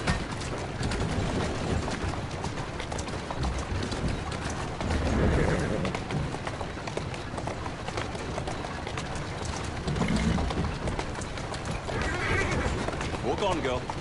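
Horse whinnies and snorts punctuate a steady rustle of movement and hooves in Assassin's Creed Syndicate, with voices speaking at times.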